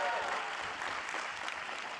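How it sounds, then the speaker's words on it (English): Crowd at the LCS Spring Split finals breaks into sustained applause for Berserker, a dense, steady wash of clapping lasting about two seconds. "round of applause for Berserker"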